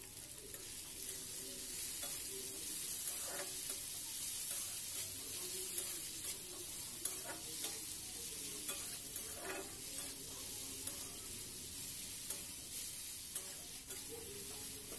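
Onions and tomatoes with a pinch of salt fry in a pan, a steady close sizzle with scattered scraping clicks from stirring that runs unbroken throughout, no voices.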